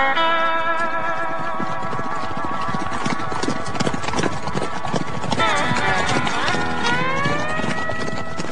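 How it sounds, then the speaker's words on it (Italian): Horses with riders approaching in a radio drama set on the savanna, a loud, continuous clip-clop of many hooves with a horse whinnying near the end over a musical backdrop. "Uomini a cavallo."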